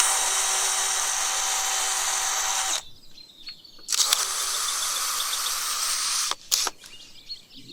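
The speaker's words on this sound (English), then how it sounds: "I'm going to drill some holes in the top of these so I can then attach a piece of wood underneath to stop the wobbling" A power drill bores holes into the top of a garden-salvaged wooden piece, a loud steady whine for about three seconds, then a second longer burst and a short final spurt, with quiet handling between.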